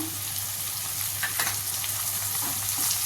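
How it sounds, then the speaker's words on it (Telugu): Spinach stirs and fries in a hot pan with onions, a steady close sizzle running the whole time, with soft scraping and stirring movements rising now and then. "ఇప్పుడు ఇందులో పాలకూర వేసుకొని కలుపుకుందాం"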